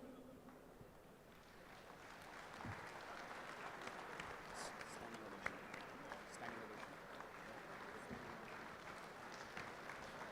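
A conference hall audience gives a standing ovation as a bank's executive director is welcomed to the dais, with steady, dense clapping running throughout at moderate distance, mixed with faint crowd murmur.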